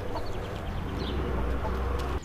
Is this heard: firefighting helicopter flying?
no